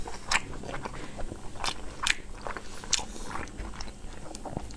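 Close, loud chewing and biting of wide potato starch noodles braised with pork belly, with several sharp wet bites and squelchy mastication sounds in an irregular rhythm and no talking.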